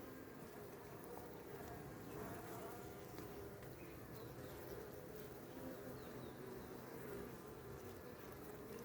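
A steady, dense insect hum of many honeybees buzzing together at the hive, continuous and close, with no talk over it.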